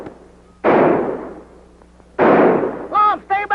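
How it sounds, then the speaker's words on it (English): Gunfire in a 1940s comedy western, two long loud bursts of shots about a second and a half apart, each with a rolling echoing tail, and a few short voiced shouts at the end. "Tell him to keep shooting, Abner."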